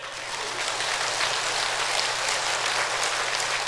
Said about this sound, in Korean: 시방 박수 한번 치세요.